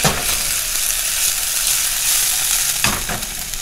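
Halved oyster mushrooms sizzle and crackle steadily in a hot pan, a loud, continuous frying hiss with a brief stirring shuffle near the end.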